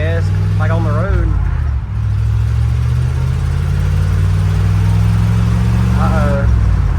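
Engine of a 1967 Ford F100 pickup truck running steadily on an early road test drive after years abandoned, a continuous low drone that briefly revs near the start and end, with voices talking over it.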